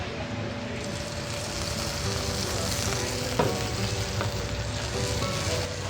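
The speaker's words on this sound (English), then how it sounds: "Now I'll add some white wine into it." White wine hits a hot pan of golden-brown garlic for prawn and dill pasta, giving a steady, close, loud sizzle and frying hiss that holds throughout, with a brief clatter midway.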